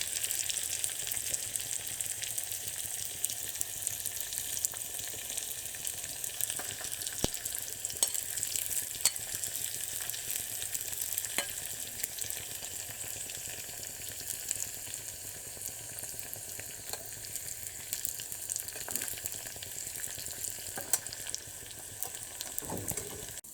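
Fresh turmeric cooking in a pan, a soft steady sizzle with occasional faint pops and crackles, continuous and fairly quiet.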